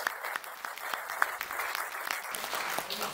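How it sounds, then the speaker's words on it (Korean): Audience applause at a launch ceremony for a national signature campaign against nuclear phase-out, a steady crowd clapping at moderate distance with scattered sharper claps throughout. "다시 한번 힘내시라고 응원의 박수"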